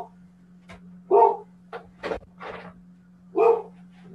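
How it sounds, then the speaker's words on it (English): A pet dog indoors barks in several short, sharp bursts spaced across a few seconds, fairly close by, over a low steady electrical hum. "Apologies for the dog barking."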